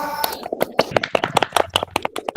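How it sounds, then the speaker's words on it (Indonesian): Clapping for a presenter in a classroom setting, a few people applauding with distinct, uneven hand claps that stay close and fairly loud, with a brief voice at the start. "Boleh tepuk tangan sekali lagi untuk penampil yang kedua."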